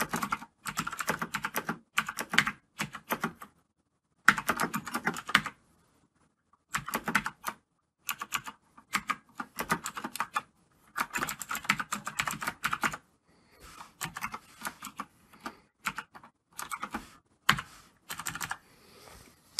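Code typed on a computer keyboard in bursts of rapid, crisp clicks separated by short silent pauses, close-up and steady.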